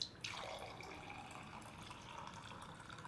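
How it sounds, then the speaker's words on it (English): An AquaTru countertop water purifier dispenses purified water into a glass. A soft, steady trickle and fill sound runs alone for a few seconds after a brief click at the start. "So simply take a glass, put it under the dispenser,"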